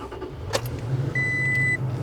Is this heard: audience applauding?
no